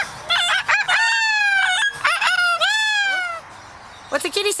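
A pet parrot imitates a rooster's crow, loud, close, rising-and-falling cock-a-doodle calls repeated about three times, with a few short squawks at the end.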